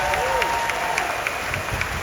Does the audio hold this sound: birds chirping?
no